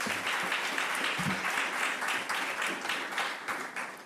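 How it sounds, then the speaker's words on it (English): An audience claps at a 7 Under 30 event honoring a group of speakers, sustained applause from a crowd heard at moderate distance, steady throughout. "Let's give them a round of applause."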